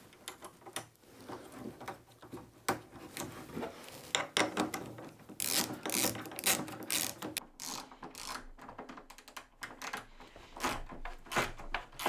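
Nuts are tightened with a ratchet to fit casters onto a workbench, giving rapid clicking runs in uneven bursts with some scraping and knocking, close up and without talk.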